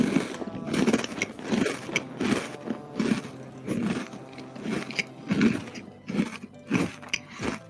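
Loud, rhythmic crunching in a game, repeated grinding bursts roughly every half second, likened to the Chuck E. Cheese Ticket Muncher swallowing tickets.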